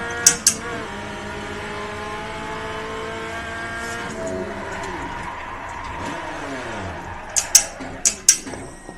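An old rear-wheel-drive Hyundai Genesis drifts with its tires smoking, its engine revving up and down in sweeping pitch changes over a steady drone, with a few sharp chirps near the start and end.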